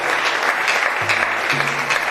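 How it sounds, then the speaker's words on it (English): Steady clapping from a church congregation during a fibroid deliverance testimony, loud and continuous, with a voice speaking faintly beneath the applause. "Put your hands together for Master Jesus."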